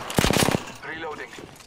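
Rapid burst of automatic gunfire in the video game Apex Legends, about eight close, loud cracks in quick rhythm, followed by faint game sounds.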